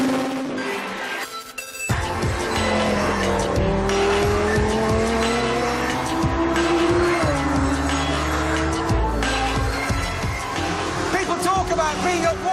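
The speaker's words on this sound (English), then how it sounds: "570 brake horsepower V10 just catapults it." A Lamborghini Sesto Elemento with a 570 bhp V10 accelerates hard and corners on track, its engine roaring and rising through the revs while tyres squeal continuously; loud and sustained, with someone talking over it.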